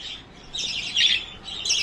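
Birds chirping and tweeting in quick bursts, fairly close, with a steady high twitter rising and falling and no voices.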